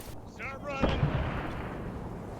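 Artillery fire in the video game Vandal Commander during a Viet Cong campaign mission, a heavy boom that rumbles and decays after a brief whooshing tonal sweep, loud and fairly close.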